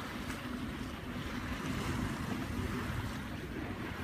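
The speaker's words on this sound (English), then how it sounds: "A little southeasterly wind." Steady southeasterly wind rushes over the microphone while water washes along a sailboat crossing Georgia Strait, British Columbia, a constant dense roar with no voices.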